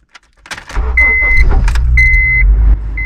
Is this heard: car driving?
yes